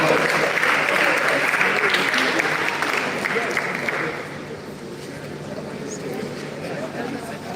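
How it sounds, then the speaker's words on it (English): An audience at a live event applauds steadily throughout, a dense continuous clapping that eases slightly in intensity partway through. "Please give a round of applause."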